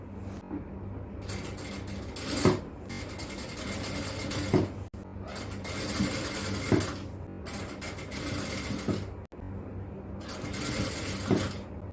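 A sewing machine stitches lace onto a nighty in three bursts of rapid, even mechanical whirring, with short quiet pauses between runs and a distinct clunk at each stop.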